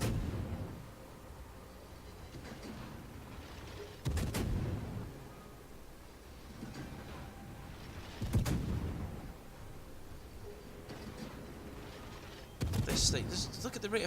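Cruiser Worcester in a naval video game, its guns firing in heavy booming volleys about every four seconds over constant engine and sea rumble, with someone talking quietly throughout.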